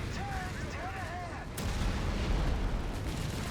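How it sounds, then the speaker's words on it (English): A Pershing tank's main gun firing in Company of Heroes 3, a heavy boom near the middle that leaves a rumbling low tail, following whistling battle noise and under general game din. "I love the report of that Pershing main gun"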